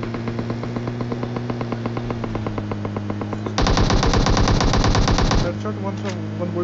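Automatic gunfire in the mobile game PUBG Mobile, a fast, evenly spaced stream of shots that turns into a denser, louder burst near the middle before dropping back, with no voices over it.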